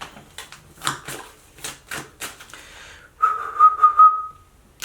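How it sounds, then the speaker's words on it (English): A person whistles a short, clear, steady tune of a few sustained notes right after stretches of talking, close and fairly loud. "I don't like when my whistle sounds dry"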